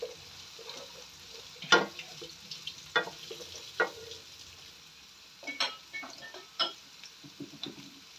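Onion sautéing in a pan for ginisang monggo gives a quiet sizzle, broken by irregular scrapes and clicks of a spoon stirring against the metal.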